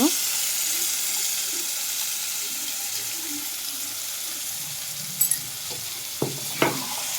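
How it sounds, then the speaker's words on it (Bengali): Marinated chicken pieces sizzle steadily in a hot pan for a drumstick chicken curry, with a few sharp clinks of a spoon stirring near the end. "আবার একটু ভালো করে নাড়াচাড়া করে নিচ্ছি দিয়ে দিলাম ম্যারিনেট করা মাংস"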